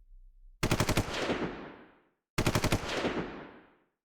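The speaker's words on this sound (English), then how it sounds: "You're about to flip him off when the lorry is raked by gunfire." Two bursts of machine gun fire rake a lorry in a convoy ambush, each a rapid string of close, loud shots ringing into a fading echo, with a brief silence between them.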